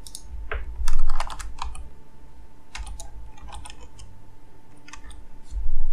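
Rapid bursts of keystrokes on a computer keyboard as a password is typed, clustered clicks separated by short pauses, close and crisp with no voices.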